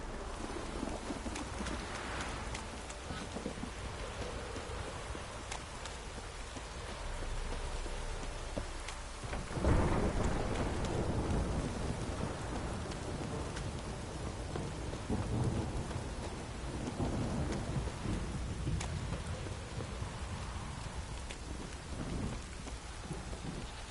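Steady heavy rain with low rolling thunder, a sharper thunderclap midway, then rumbling that fades under the downpour, in the game The Witcher 3.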